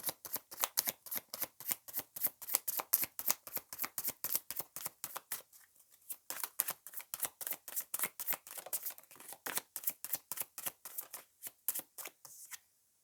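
Tarot cards are shuffled by hand in quick, regular riffs, a crisp rapid flutter of card edges repeating close up for several seconds, pausing briefly, then resuming until a final stop.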